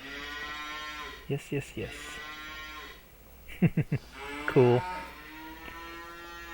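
Cattle mooing in the video game Farming Simulator 25 as cows walk into the stalls, a few loud drawn-out moos rising over farm ambience, with someone talking briefly between them.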